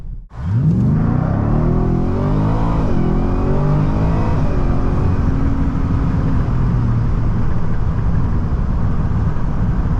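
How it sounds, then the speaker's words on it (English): A 700hp Ford Raptor R truck launches hard, its engine roaring up from a sharp start into a loud, sustained rising rumble with broadband tire noise, close by and alone without talk. "So I'll do another launch in this mode and you'll see that the truck will actually take off."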